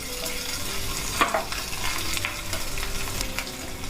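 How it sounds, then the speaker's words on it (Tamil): Ginger and green chillies fry in hot oil in a pan, giving a constant soft sizzle with an occasional stirring scrape, heard up close with no one talking. "இஞ்சி போட்டுட்டு அது மேலே பச்சை மிளகாயும் போடுறேன். இது ரெண்டும் முதல்ல கொஞ்சம் வறுப்படட்டும்"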